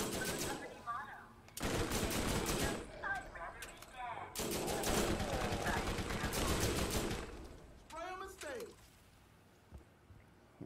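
Automatic gunfire from a deployed turret shooting zombies in the video game The Zombie Island of Dr. Ned: long, loud bursts of rapid shots with short pauses, and voices talking over them.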